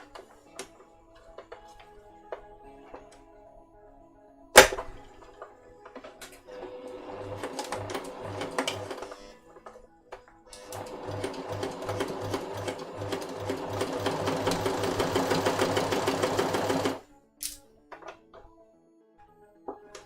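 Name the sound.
sewing machine stitching a kid's jacket hood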